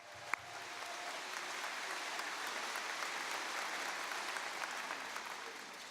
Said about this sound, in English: So would you please give them a round of applause too?